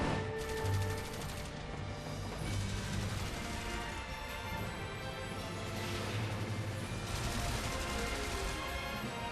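Gunfire in the role-playing game Final Fantasy XIII, a loud, dense wash of shots and bursts over a droning game soundtrack, with surges of intensity recurring every couple of seconds.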